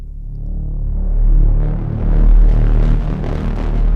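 A KORG Multi/Poly synthesizer plays its Dinosaurs preset, a loud, deep, rumbling throb that swells and surges in slow waves, rising into a grittier upper wash as it goes.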